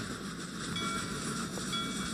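A train rumbles steadily past in a railroad simulator game, a continuous rolling wheel-and-rail drone with faint high tonal whines on top, moderately loud and unbroken, with no talking.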